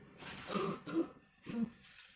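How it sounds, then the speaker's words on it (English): Someone clears their throat several times in quick, gravelly rasps, quiet and close, with short pauses between them. "Excuse me for clearing my throat."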